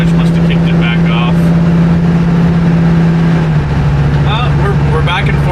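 A Gen 3 Hemi-swapped AMC Gremlin accelerates hard as the automatic transmission kicks down a gear, a loud, close engine roar whose pitch drops at the shift and then climbs again, with voices talking over it.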